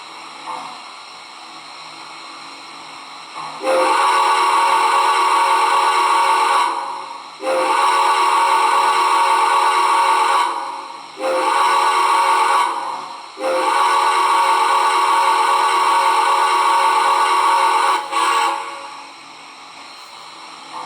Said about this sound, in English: let's blow the whistle. This is one of my favorite whistles. It's a New York Central style whistle.